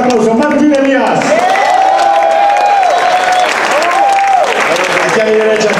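Concert audience applauding the drummer at a blues band show, a steady wash of clapping and crowd noise with a sustained tone ringing over it and voices mixed in.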